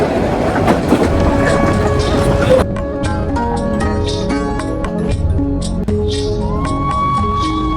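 Loud rumbling of a passenger train on the tracks in Netrokona, Bangladesh, with rhythmic clacks and metallic tonal squeals and hums over the steady roar.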